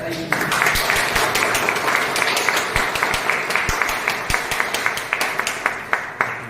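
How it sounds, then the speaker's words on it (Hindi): An audience claps steadily for a seventh-ranked business achiever at a business-plan meeting, with a dense patter of hands plus sharper individual claps running throughout at moderate level, mixed with background voices. "रूबी स्टार के लिए ताली जोर से होना चाहिए।"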